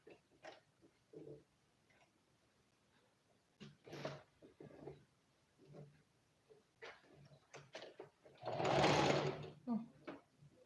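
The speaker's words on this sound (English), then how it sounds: "You can see I just hold it down like this using my zigzag stitch" A sewing machine runs a zigzag stitch over an elastic band on a pair of pants, mostly in short bursts between pauses with one longer, louder run near the end. Quiet talking is heard in the gaps.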